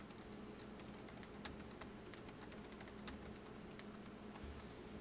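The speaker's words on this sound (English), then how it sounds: "Now I'll type in my information here." Steady typing on a computer keyboard while entering install details for Manjaro KDE Linux, continuous soft clicking keystrokes at an even pace, fairly quiet and close, with no voices.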